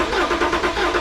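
A BMW 335d diesel engine cranking and catching, a steady mid-pitched engine churn with slight rhythmic pulsing, close and loud, with no voices.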